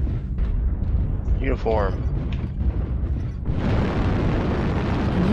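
Airstrike explosions in MechWarrior Online rumble as heavy, continuous booms and roaring blasts throughout, with a short spoken word over the din partway through.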